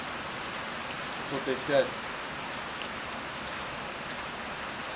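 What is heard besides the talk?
hard rain falling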